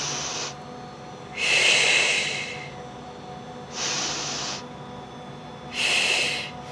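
Deep breathing during an oblique core workout: four loud, close, airy breaths, each one to two seconds long and separated by short pauses, with nothing else heard.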